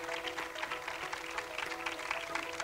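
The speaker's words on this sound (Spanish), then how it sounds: "para Sergio Ramón y para Itaiza, también un fuerte aplauso" An audience applauds the gala directors at the presentation of candidates for queen of the July festivities in Puerto de la Cruz, 2019, with steady, dense clapping that sounds fairly faint and distant and continues throughout.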